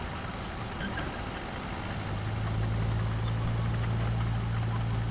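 Vehicle engine idling in the video game RoadCraft, a steady low rumble that settles into a constant deep drone partway through, heard alone with no talk.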